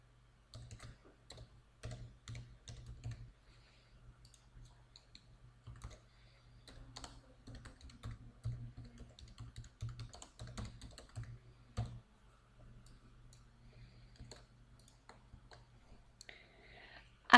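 Quiet computer keyboard typing while form fields are filled in accounting software, with soft keystrokes arriving in short bursts and pauses across the span, close and alone with no voices.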